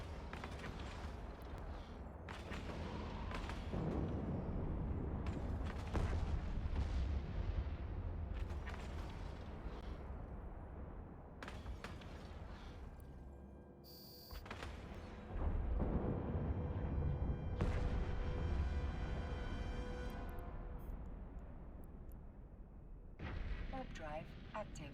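Enemy ships firing weapons in EVE Online, a steady rumble of heavy booming shots and impacts, loud and dense for long stretches, with brief gaps.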